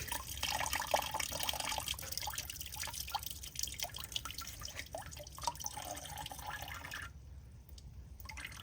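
Dirty coolant drips and trickles from a VW 2.0 TSI engine into a catch container, a faint, fairly steady drainage patter near the microphone with scattered small splashes.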